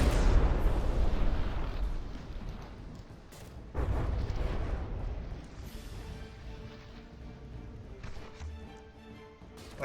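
Cannon shells firing and impacting in a From the Depths vehicle battle between the Wapen and Legionnaire, heard as dense booming blasts and rumbling explosions throughout, with a heavy burst near the middle.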